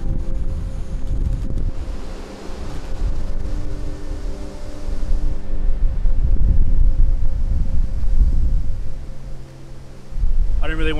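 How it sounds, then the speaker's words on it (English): Strong gusts of an oncoming winter storm buffet the microphone at a campsite in loud, uneven rushes of low roaring wind that ebb and surge. "As you can hear, it's starting to get pretty windy"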